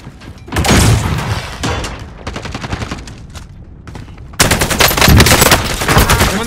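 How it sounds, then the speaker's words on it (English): Rapid automatic gunfire in a battle royale video game, loud close bursts of machine-gun fire in several strings with brief pauses, ending in an especially heavy sustained volley. "I'm under fire."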